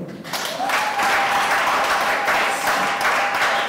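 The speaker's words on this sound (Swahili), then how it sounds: "Unaweza kumongezea Bwana makofi?" Church congregation applause at a Swahili sermon: a full room claps loudly and steadily for several seconds, with a faint sustained tone running beneath the dense clapping.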